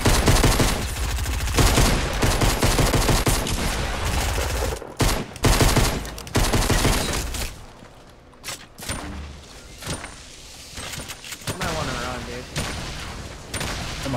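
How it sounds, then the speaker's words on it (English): Rapid automatic gunfire rattles in Fortnite, loud and continuous for several seconds before thinning into sparser shots and game effects as a player talks over it. "Why does his gun shoot so fast?"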